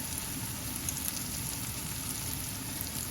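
Leeks and diced garlic frying in a pot, a steady close sizzle and crackle with faint scattered pops, heard alone without speech.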